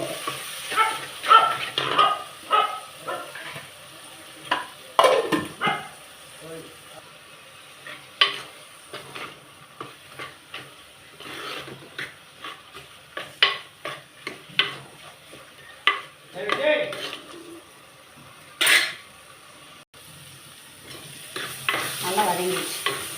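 A ginger, onion and garlic paste is sautéed in a pan for a garlic curry, with intermittent scraping stirs over a soft sizzle, heard close with quiet stretches between strokes.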